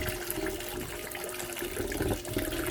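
Water steadily washes sand in a gold pan, a continuous splashing and rushing flow that stays loud and close throughout without any voice.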